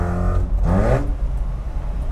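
Japanese mini truck with a turbocharged rotary engine and Racing Beat exhaust, revved toward 7,000 RPM: one loud, close rising rev that peaks and drops, then settles to idle rumble, no talking.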